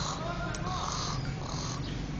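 A human voice imitates snoring as the first step of a beatbox cricket sound, producing a rough, vibrating inhaled rasp that stays close and steady for a couple of seconds.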